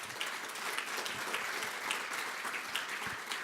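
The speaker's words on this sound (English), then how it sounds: "I want to give you guys a round of applause also to the CVA team" An audience applauds at a veterans' event, a brief, steady patter of many hands clapping at moderate distance.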